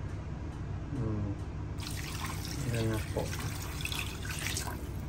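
Water poured from a tap or container into a pot of chicken tinola with papaya, a soft splashing trickle in short bursts under a steady background hum, with a voice speaking briefly.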